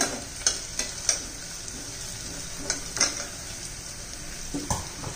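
Onions for pav bhaji frying in oil, turning translucent, with a steady soft sizzle and several sharp scrapes and clinks of a spoon stirring against the pan, close and without talk.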